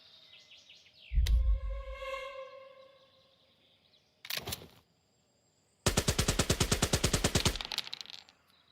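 Heavy machine gun fire from the Valour & Victory WW2 Pacific game: a loud boom and rumble, a short burst, then a sustained rapid stream of shots, with chirping electronic tones early on.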